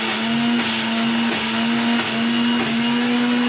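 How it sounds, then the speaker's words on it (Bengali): Electric grinder grinding soaked pea lentil paste, a loud steady motor whine with a constant droning hum and slight periodic wobble, running alone without pause. "ডাল বাটা হচ্ছে, ডাল"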